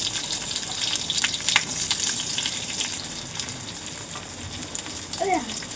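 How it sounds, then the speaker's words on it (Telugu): Onions sizzle in hot oil in a pan over low flame, a steady close crackle and hiss running throughout with light clinks and stirring. "గోల్డెన్ కలర్ వచ్చే వరకు ఫ్రై అయితే చేసుకోవాలి."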